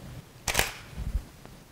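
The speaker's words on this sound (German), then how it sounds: "Jetzt mache ich mal ein Testfoto." A camera shutter fires once for a test shot in a homemade water-drop photography setup, a sharp close mechanical click followed by a softer low thump and a faint later tick.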